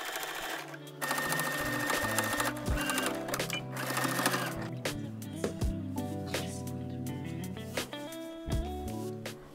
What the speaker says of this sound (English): Then using those markings as guidelines, I just sew a straight stitch.